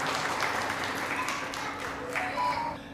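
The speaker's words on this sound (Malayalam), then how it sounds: "അത് കൈയടിച്ച് പാസ്സാക്കിയാൽ ഇത് നമുക്കതിനകത്ത് മുന്നോട്ട് കൊണ്ടുപോകാൻ പറ്റും" An audience at an anniversary gathering applauds to approve a proposal, with a steady wash of clapping that runs together with talking voices for a few seconds before easing off.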